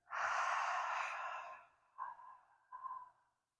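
A slow, deep breath drawn in and pushed out during a 360 breathing drill in the 90/90 position with a block squeezed on the exhale, one long airy inhale followed by two softer exhale pushes, close and fairly quiet with no talking.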